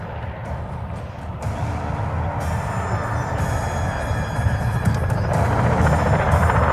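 An RCAF CH-148 Cyclone twin-turboshaft helicopter flies at the Cold Lake Air Show, with a loud, steady rotor thump and turbine roar that holds close and unbroken throughout.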